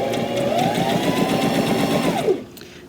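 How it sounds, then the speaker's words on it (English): A sewing machine stitches a seam in fabric, running steadily for about two seconds, its rapid needle clatter humming at a constant pace before winding down and stopping. "go to your sewing machine and stitch a 1/4 inch seam allowance on either side of that line"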